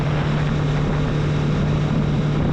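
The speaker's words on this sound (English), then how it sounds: "Did I mention how awesome this bike sounds?" A 2014 Yamaha VMAX motorcycle engine drones steadily while riding, a loud constant low hum mixed with heavy wind rush throughout.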